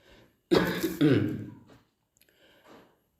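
A couple of harsh throat-clearing coughs up close, one right after the other, followed by a faint short murmur.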